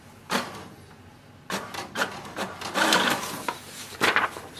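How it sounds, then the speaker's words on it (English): An HP DeskJet 2755e printer prints its information page, giving irregular mechanical whirs, clicks and rubbing paper-feed bursts in a quiet room, rising in activity toward the end. "Now press the information button once to print the printer information page."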